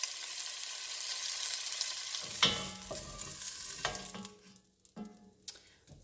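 Pork meat browns in a pan in batches over medium-high heat for a Mexican pork and squash dish, with a loud steady sizzle and a few spoon scrapes before the frying noise drops away near the end.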